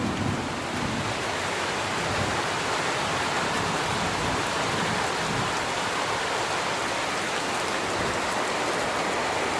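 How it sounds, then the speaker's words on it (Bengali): Heavy rain pours steadily and loudly during a Kalbaishakhi storm, a dense continuous hiss of drops with no voices. "দেখি কতটা বৃষ্টি পড়ে রে।"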